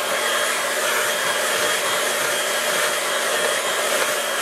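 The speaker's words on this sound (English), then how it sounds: "I'd just get the air dryer on it just to stop it from running." A hair dryer blows over wet watercolour paint on a landscape painting, a loud, steady whooshing hiss that holds constant throughout with no voices.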